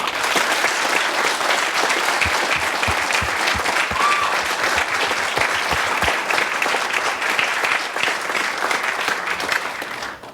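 Roaring applause from a conference audience during closing remarks, dense sustained clapping from many people at full volume throughout, tapering slightly at the very end.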